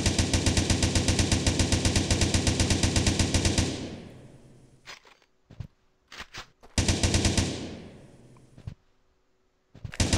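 Rapid automatic gunfire in a shooting video game, loud sustained bursts with short gaps and scattered single shots between them.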